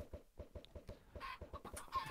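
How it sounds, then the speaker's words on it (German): Chickens in a video game labyrinth cluck in a quick, steady run of close, even pulses that continue alone without speech. "Es werden gerade überall Hühner verteilt."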